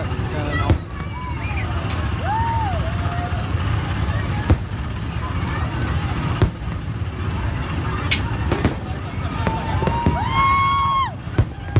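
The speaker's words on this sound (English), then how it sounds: "all the fireworks are going on" Scattered booms and crackles of fireworks at Magic Kingdom sound at a distance, heard from the Tomorrowland Speedway, over a steady crowd and traffic murmur, with a few whistling rises near the end.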